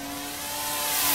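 A Dynam AT-6 Texan RC model plane dives at speed, its electric motor a thin whining drone that rises steadily in pitch and loudness over a brief moment, heard from a distance.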